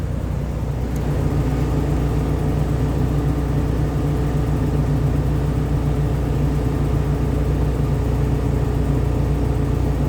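A truck engine runs with a steady, close, deep rumble and a constant mid-range drone for the full ten seconds, with no talking over it.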